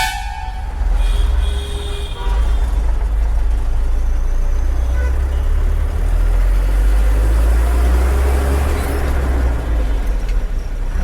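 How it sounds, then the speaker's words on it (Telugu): Steady, loud roar of heavy traffic near the Chittoor bypass on a weekend, with dense low rumble throughout and a few horn-like tones early on. "వీకెండ్ ట్రాఫిక్ ఇదంతా."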